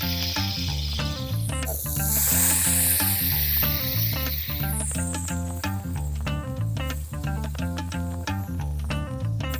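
Food sizzling on a hot griddle, a steady bright hiss that swells for a couple of seconds, mixed under prominent rhythmic background music throughout.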